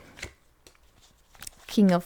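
Tarot cards being shuffled by hand in a few quick riffling bursts, the loudest flutter near the end, with light handling noise between.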